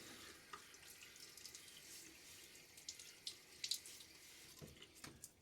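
A bathroom faucet runs steadily into a sink as a face is wetted before shaving, a soft, distant-sounding stream with faint splashes and drips and no voices.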